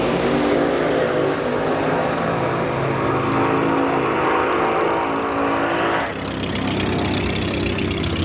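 Hot rod cars at an NSRA drag event run down the strip, a loud, continuous engine roar with deep rumbling harmonics that shifts in tone partway through, close by and alone without talk.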